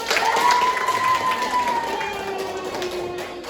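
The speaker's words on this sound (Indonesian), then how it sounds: "Tepuk tangan." An audience at a public health talk on diabetes in teenagers applauds, a continuous loud wash of clapping and crowd noise with a whistle-like tone sliding down through it.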